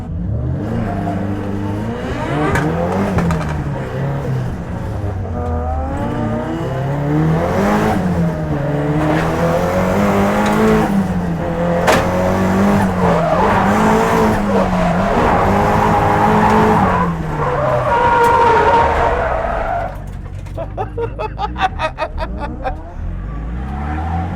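A 450bhp Nissan 180SX race car driving hard around a track, loud in-car engine note rising and falling through revs and gear changes, with tire squeal and a drop to quieter idle near the end.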